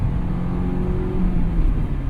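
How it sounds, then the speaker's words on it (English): Honda S2000 AP1 engine pulling through the gears from inside the cabin, a steady high-revving drone with road noise and no talk over it. "This car ain't got the torque, but it revs all the way out there."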